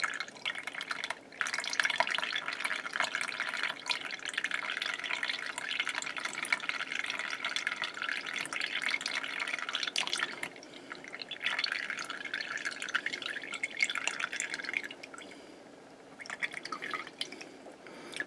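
Water slowly drained off saved tomato seeds sunk in a bottle, a close, steady trickle with soft dripping running throughout and easing briefly near the end, with no talk.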